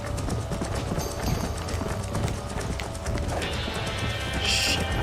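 Horse hooves clip-clopping steadily in the Red Dead Redemption video game, a continuous rhythmic trot over a busy game soundscape, with a brief bright chime near the end.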